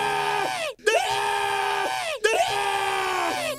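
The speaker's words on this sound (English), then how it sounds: "Why does Joel McHale keep screaming?" A man's loud, sustained scream from an animated comedy, two long drawn-out yells separated by a brief gasp, close and strained, filling the whole moment with no other talk.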